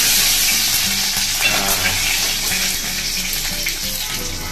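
Onions frying in hot oil as curry leaves and turmeric are added, a steady loud sizzle with stirring scrapes throughout and no talking.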